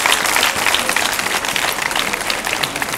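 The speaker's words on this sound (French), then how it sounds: "Applaudissez pour lui." An audience applauds a scholarship recipient at an excellence scholarship award ceremony, with dense, steady clapping that stays loud and close for the whole moment.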